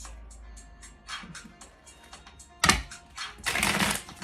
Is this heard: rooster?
no